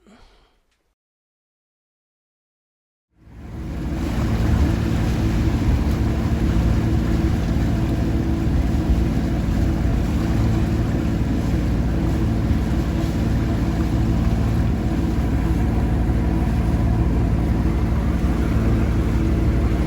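A sailboat's engine runs at 1800 RPM while motor sailing under full sail at about 7.5 knots off Sicily. After a short silence, a steady, close, low rumbling drone holds unbroken to the end.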